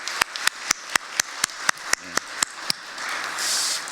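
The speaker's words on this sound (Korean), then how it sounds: "우리 박수로 축하해 드리면 좋겠습니다" A church congregation claps to congratulate members at an adult discipleship course completion service: a run of evenly spaced, sharp claps in a steady rhythm, fading into a soft room wash at the end.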